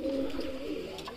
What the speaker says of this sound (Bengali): বাসিরাজ কুখা অবশ্য মানুষ দেখলে একটু ডাকতে চায় কম